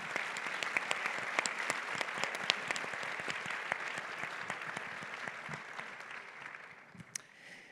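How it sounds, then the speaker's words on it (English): An audience at a women-in-leadership panel event breaks into sustained applause, dense clapping that stays strong for several seconds before thinning out near the end, with no talk over it. "a round of applause to welcome our panelists"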